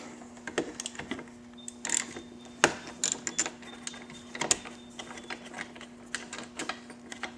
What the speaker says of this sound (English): You have to unbolt one of these windshield brackets. Doesn't matter which side, but it's a 10mm bolt.